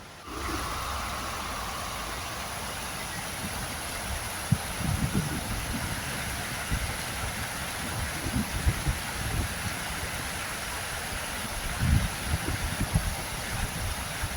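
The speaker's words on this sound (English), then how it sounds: "I can hear plenty of rushing water now" Water rushes steadily through Padley Gorge, where a river runs down past a waterfall, producing a constant broadband roar that fills the whole stretch with little variation, alongside some faint rustling.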